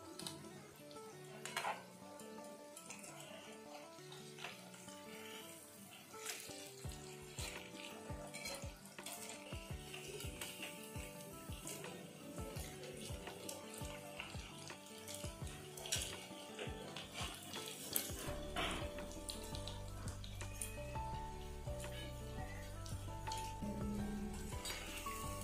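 Pakoras crackle as they deep-fry in hot oil, with a steady sizzle broken by clatters of a spatula or utensil against the pan as the pieces are turned; a low droning hum grows in the final few seconds.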